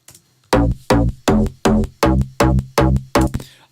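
Repeated kick drum hits, eight in a steady rhythm, each with a sharp click on the transient and a deep decaying low body, loud and isolated with no talking.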